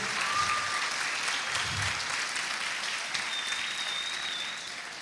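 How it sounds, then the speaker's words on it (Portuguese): A church congregation at a leaders' training session breaks into a dense, steady wash of applause that carries on for several seconds before thinning slightly toward the end. "Dê uma forte salva de palmas para Jesus, aleluia."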